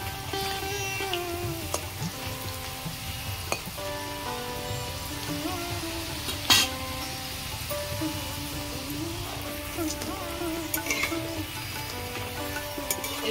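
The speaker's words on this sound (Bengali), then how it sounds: "এইভাবে আমি সবগুলো ভেজে নেব।" Bitter gourd pakoras deep-fry in hot oil, giving a steady rain-like sizzle that runs throughout at moderate level, with one brief louder crackle midway.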